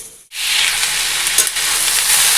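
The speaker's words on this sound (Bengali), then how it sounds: "এখানে এই যে মিশালি ভাজা বসিয়ে দিয়েছি" Mixed vegetables (yardlong beans, potato and pointed gourd) fry in a pan with a loud, steady, close sizzle that starts abruptly and hisses on without pause.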